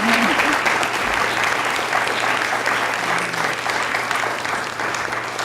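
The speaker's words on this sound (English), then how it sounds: "So please join me in a round of applause for our speakers." Audience applause for panel speakers at a media and politics discussion event, a dense, steady clapping from a full room lasting throughout without pause.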